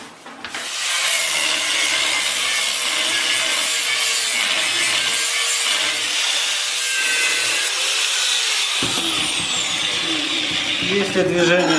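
An angle grinder cuts a saw blade to shape a reed for a jaw harp (khomus), giving a loud, steady, rasping grind that runs almost the whole time and ends in a sharper scrape near the close.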